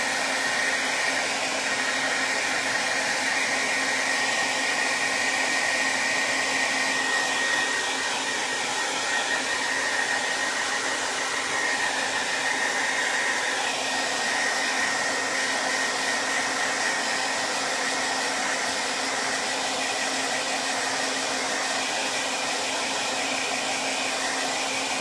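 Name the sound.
hair dryer blowing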